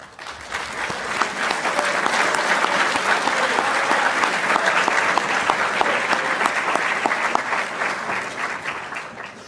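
Audience at a school honors convocation applauding a retiring speaker with 35 years of service, a loud sustained wall of clapping that swells in quickly and holds steady.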